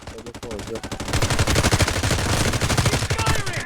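Rapid automatic gunfire in the Delta Force video game, dense bursts of rhythmic shots building from lighter fire to a loud continuous stream, with a voice speaking briefly over it.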